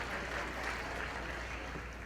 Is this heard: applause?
yes